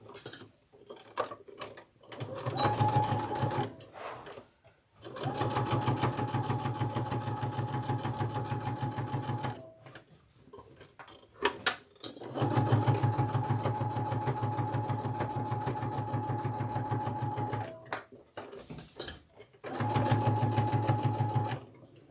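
A sewing machine stitches rows of a t-shirt quilt with black thread. It runs in long, steady, loud humming passes with a regular needle rhythm and brief pauses between runs.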